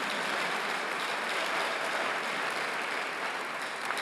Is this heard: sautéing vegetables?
no